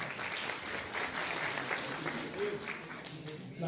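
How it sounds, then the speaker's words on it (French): Steady audience applause fills a ceremony at a phone launch event in Côte d'Ivoire, dense and continuous for the whole stretch with no break in the clapping. "Encore des applaudissements, s'il vous plaît, mesdames et messieurs."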